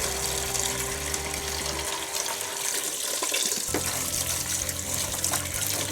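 Warm water pours steadily from a tap to rinse a removed detergent drawer and softener grate from a Bosch washing machine, a continuous close splashing rush that shifts in tone partway through as the stream hits differently.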